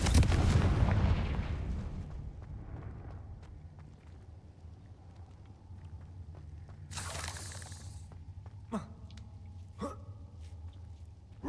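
Confringo fire spells from Hogwarts Legacy open with a loud booming blast that fades slowly, followed by a whooshing burst and a few sharp, snapping impacts against a quiet game background.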